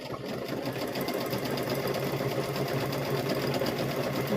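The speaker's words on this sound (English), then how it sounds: "we're just going to sew right around the seam here" A sewing machine stitches steadily around the seam of a handmade welding hat, a close, continuous mechanical whir with rapid regular needle pulses and no pauses.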